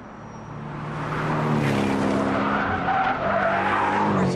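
A Porsche Cayman or Boxster lapping a race track drones steadily as its tires squeal through a long corner, loud and sustained, with the engine note rising and holding.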